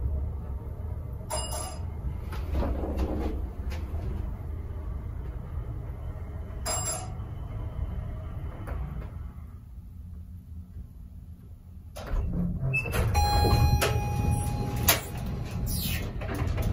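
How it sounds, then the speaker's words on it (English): Montgomery Vector elevator door in Salt Lake City closing after a button press, a low mechanical rumble and sliding movement with faint clicks, fairly close, with no talk. "Door closes when you push the button."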